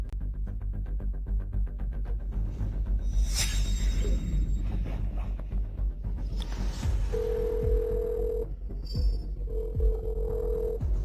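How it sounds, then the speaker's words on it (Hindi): A telephone is dialed, giving a couple of sustained electronic tones over low background rumble and a few soft rustles. "किसी को फोन करके बुला रहे हो?"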